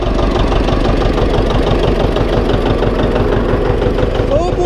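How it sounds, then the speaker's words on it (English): A farm tractor's engine idles steadily and loudly throughout, a constant low rumble with a rhythmic knocking pulse, close to the microphone with no one speaking. "Oh boy, Sylvester, you must really want a tractor ride, don't you?"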